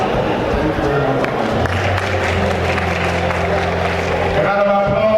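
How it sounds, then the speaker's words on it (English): An audience at a surveyors' institution memorial lecture applauds the chairman of the day, a steady, dense clapping held throughout alongside low sustained music or hum in the background. "A round of applause for the presentation of today and gift for the chairman of the day"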